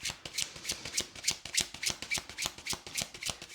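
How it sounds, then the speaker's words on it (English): Rapid, rhythmic riffling of a deck of tarot cards, repeated crisp bursts in a steady pattern, close up with no voices. "We'll get through one or two more shuffles here"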